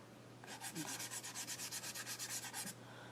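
A chisel-tip marker colours across dry cardboard in quick back-and-forth strokes, about fifteen faint, even scratchy rubs in a steady rhythm over a quiet background, with no speech.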